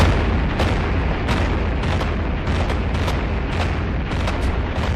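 Loud, continuous rumbling barrage from thousands of Soviet artillery guns and multiple rocket launchers, 19 November 1942, with repeated booms blending into a dense, roaring wall of sound.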